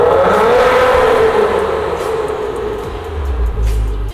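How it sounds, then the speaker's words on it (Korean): Maserati Ghibli 3.0 first-generation in sport mode, its exhaust giving a loud, close, sustained engine drone with a rising tone that eases, then a deep low rumble swelling near the end. "이 차량 스포츠 모드 배기음 듣고 가실게요."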